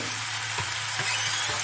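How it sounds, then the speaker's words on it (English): Chinese fried rice sizzles in a hot pan, a loud, dense, continuous hiss of frying with a few soft knocks of stirring underneath. "Listen to that beautiful sizzle"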